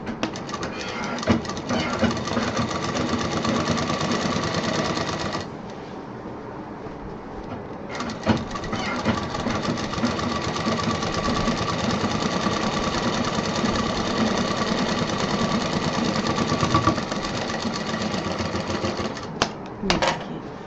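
Sewing machine stitching shopping bag fabric runs in a fast, steady whir, pausing briefly once before continuing close up, with a faint stop near the end.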